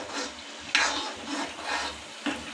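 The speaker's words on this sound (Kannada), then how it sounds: "ಗ್ಯಾಸ್ ಫ್ಲೇಮ್ ಹೈ ಮಾಡಿ ಸ್ವಲ್ಪ ಇದನ್ನು ಕಲಿಸ್ಕೊಳ್ಳೋಣ" Ground masala paste made with red Byadagi chillies is stirred in a pan on high flame for matar paneer, giving close, rhythmic scraping strokes over a steady frying sizzle, with a couple of sharper utensil clinks.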